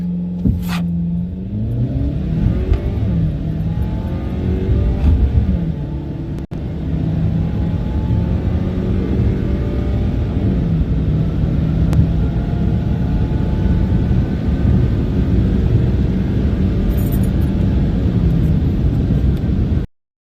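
A 2022 Ford Maverick accelerating uphill, with engine drone climbing steadily in pitch through several gear changes, heard from inside the cabin for about twenty seconds.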